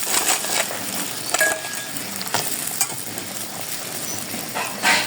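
Fritters (bora) for a bhog offering slide into a hot pan and fry, a steady soft sizzle with scattered stirring clinks and brief scrapes, close and moderately loud with no talk.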